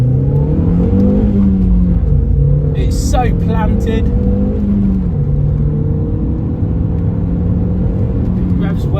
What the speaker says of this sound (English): It revs well, it picks up speed perfectly